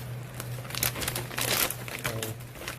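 Crinkling of a plastic sous vide bag being folded around ribs, close crackly rustles in several bursts over a low hum.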